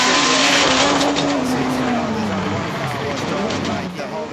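A Holden Commodore car drives hard with a loud, sustained tire squeal that slides gradually lower in pitch, over a steady roaring engine and road noise.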